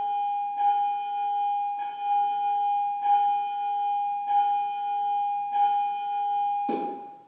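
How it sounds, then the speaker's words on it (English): Bells ring out in a steady series of six evenly spaced, sustained tones, each chime sounding and decaying into the next, ending with a brief louder clatter; no one speaks over them. "sorry, bells."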